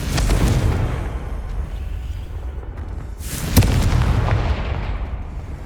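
A fiery Confringo spell blast goes off in Hogwarts Legacy, a deep booming explosion with a rumbling tail, followed midway by a second sharp, loud burst and a rolling roar that fades into a low, sustained rumble.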